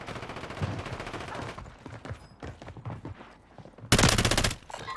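Bursts of rapid video game gunfire on the New Fortunes Keep map, dense automatic shots in the first seconds, then scattered shots and a loud close burst near the end.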